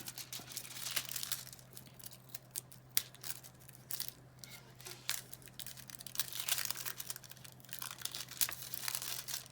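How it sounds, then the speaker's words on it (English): A die-cut paper piece is peeled slowly and gently away, making faint, intermittent crinkles and soft tearing rustles over a steady low electrical hum. "if you peel away gently"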